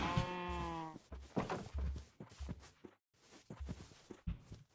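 Sheep bleating in Minecraft, one loud harmonic bleat up front followed by soft footsteps and faint shuffling movement, no talk, fairly close.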